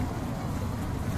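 A boat out on the water near Sylhet's Sada Pathor, heard as a steady, dense low rumble with broadband wind-like noise, continuous and fairly loud throughout, no clear voices standing out.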